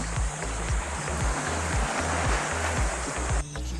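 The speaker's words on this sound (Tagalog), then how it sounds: "Napaka-relaxing na kasi ng tunog ng tubig." Waves wash steadily along a beach at Puerto Galera, a constant broadband rush close by, with a regular thudding rhythm like footsteps walking on the shore and no talking.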